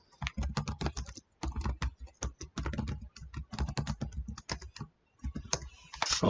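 Rapid typing on a computer keyboard while writing C# code, with dense bursts of close, crisp keystrokes broken by short pauses and no talking.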